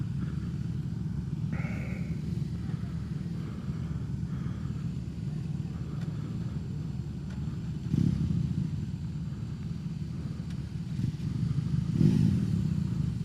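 First-edition 2021 BMW R18 motorcycle engine, a low steady rumble running continuously at close range, with a couple of brief louder pulses and faint clatter over the top.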